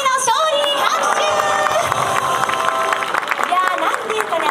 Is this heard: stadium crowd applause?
yes